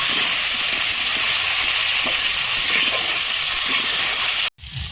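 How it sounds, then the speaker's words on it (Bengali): Potatoes fry in a pan with salt and turmeric, giving a loud, steady sizzling hiss that runs almost unbroken before cutting off briefly near the end. "সামান্য লবণ আর হলুদ দিয়ে আলুটা আমি ভেজে নেব"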